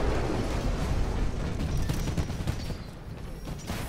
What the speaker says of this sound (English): Someone's exploding like a nuke.